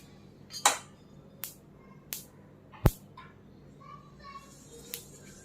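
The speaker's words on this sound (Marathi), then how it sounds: "पहा, चटचट आवाज येतो आहे." Sesame seeds roast in a pan, giving sparse sharp pops and crackles at irregular intervals, one louder than the rest, over a quiet background.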